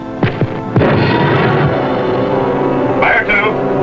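A submarine torpedo firing aboard the Grayling: sharp thumps, then a loud, sustained rushing roar that fills the rest of the moment, with faint radio-like tones near the end.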